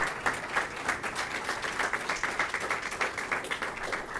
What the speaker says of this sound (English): Let's stand and give another round of applause to our speaker, the governor